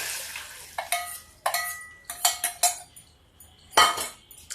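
A spoon scrapes and clinks around a metal cooking pot while a besan batter is stirred, giving intermittent bright clatters with short quiet gaps, close and alone.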